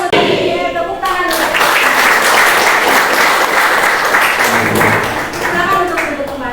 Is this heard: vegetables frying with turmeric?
no